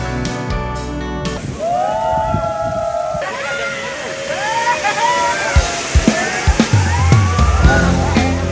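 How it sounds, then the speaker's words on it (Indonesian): A water slide where people ride rubber rings down a long flume, with loud continuous rushing and splashing water, a music sting at the start and excited voices and shrieks throughout. "Namanya water slide atau perosotan air."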